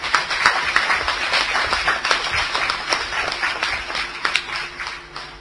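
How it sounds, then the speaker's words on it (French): Municipal council members in a meeting chamber applaud together, a dense, steady burst of clapping that fills the room for several seconds before thinning out at the end. "ça fait plaisir à tout le monde de vous applaudir"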